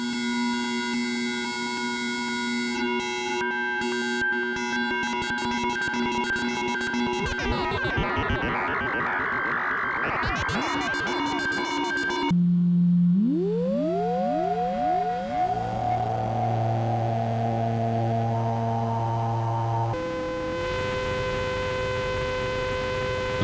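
An AE Modular synthesizer being patched live gives a dense drone of layered tones, with sweeping pitch glides, a warbling section, sliding tones that rise and settle, and abrupt changes in texture, steady and loud throughout.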